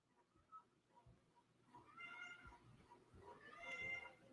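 A cat meows repeatedly, faint at first and then in two longer, louder drawn-out calls, set against quiet background thumps.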